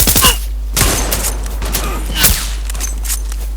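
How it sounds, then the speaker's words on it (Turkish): Sniper rifle shots in the online shooter game Zula: a few loud, sharp cracks with booming tails ring out at intervals over a continuous low in-game hum. "Oo bak ayağına sıkıyorum"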